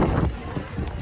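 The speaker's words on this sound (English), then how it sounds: "it's still super windy." Strong wind gusts roar across the microphone at an outdoor market pavilion, a loud, broad, rumbling buffeting that fills the whole moment close up, with no voices.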